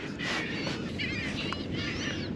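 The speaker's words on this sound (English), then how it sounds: "Look at the birds." Seabirds call over a speckled trout school at a fishing spot on open water, a steady noisy wash of overlapping cries with a few sharper calls rising above it, close and continuous.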